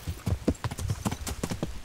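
Horse hooves clip-clopping in Kingdom Come: Deliverance, with a quick, rhythmic series of close, crisp hoofbeats at a brisk gait, with no talking.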